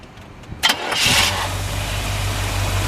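A 1973 Chevrolet Corvette's 350 V8 cranks briefly, catches with a loud burst, then settles into a steady, close, rumbling idle.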